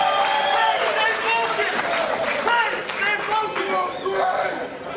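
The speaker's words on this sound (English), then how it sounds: "And the crowd goes wild." Crowd at a grappling match in Austin roaring and applauding continuously, a dense wash of cheers and clapping with an excited commentator talking over it throughout.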